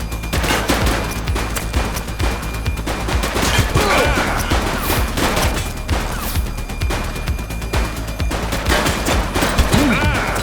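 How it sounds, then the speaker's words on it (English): Dense police shootout gunfire from The Precinct, rapid overlapping shots and bursts crashing almost without pause for the whole stretch, loud and close, with faint shouted voices buried underneath. "Shots fired!"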